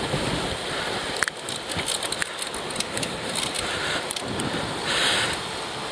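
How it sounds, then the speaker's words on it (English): Wind gusts and lapping waves at the Lake Ontario waterfront make a steady, broad rushing noise, with buffeting wind on the microphone and occasional sharper splashes, with no voices heard. "which makes it a windy day at the waterfront"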